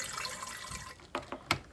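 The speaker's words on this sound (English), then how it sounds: "add about a cup of water to the bottom of the Instant Pot" Water poured into the bottom of an Instant Pot, a faint liquid stream followed by a few splashing drips near the end.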